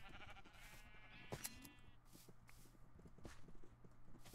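A Minecraft sheep bleats once in a quiet, wavering cry amid faint game ambience and soft clopping footstep-like taps.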